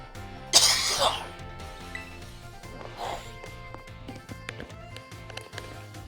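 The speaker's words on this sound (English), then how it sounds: "I gotta clear my throat." A loud, close throat clearing, one rough burst, over a steady rhythmic music track that keeps playing afterward.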